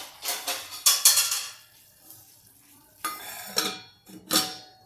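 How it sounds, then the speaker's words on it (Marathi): Metal lid and utensil clatter on a pot of pea and potato rice, several sharp clinks and scrapes in two bursts separated by quiet, with faint sizzling beneath. "आता मी याच्यावर थोडंसं झाकण ठेवते"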